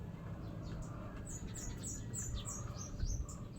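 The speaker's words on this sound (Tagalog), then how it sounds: "nakikinig po ito sa mga ibon guys na naghuhuni" Several small birds chirp and squawk behind a store, a quick series of high, thin calls over a low background rumble, fairly faint and at some distance.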